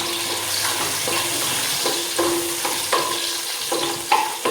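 Whole shallots frying in coconut oil for a Kerala-style roasted-coconut country chicken curry, giving a steady close sizzle broken by several sharp stirring scrapes and clinks, with no talking.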